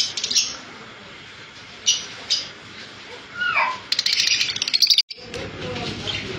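Green Fischer's lovebirds chirp in scattered sharp, high calls, with a quick flurry of rapid chattering near the end and a sudden cut before a quieter tail, over a steady background hiss.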